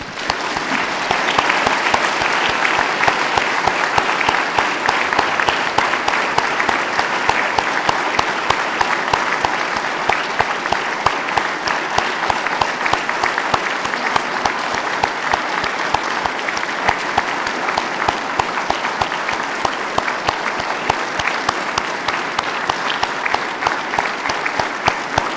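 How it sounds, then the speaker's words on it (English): A large crowd at a police change of command ceremony in Saskatoon claps in sustained, even applause that stays loud and dense for about twenty-five seconds, with no talk over it. "Please join me in a round of applause for both of these very special chiefs."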